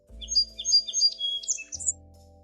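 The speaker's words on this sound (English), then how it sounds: "Sparrow" Sparrow chirping in a quick series of short, high tweets, fairly close and clear, with a faint low hum underneath and no voices.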